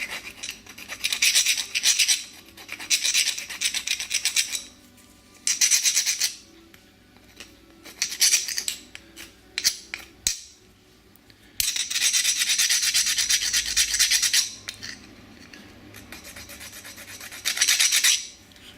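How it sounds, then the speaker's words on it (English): Hand file rasping tough resin off the charging magnet of a Suzuki V-Strom 1000, with repeated close, bright scraping strokes in bursts separated by short pauses. "I'm finding the file is doing it quite nicely"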